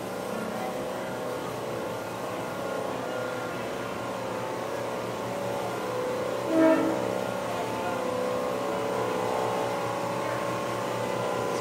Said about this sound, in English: I wanted to show you this generator.